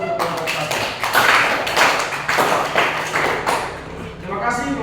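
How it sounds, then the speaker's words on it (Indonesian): A classroom applauds a student group, a dense burst of hand clapping lasting several seconds, mixed with voices talking and calling out among the students. "Mari kita berikan aplaus untuk kelompok 1."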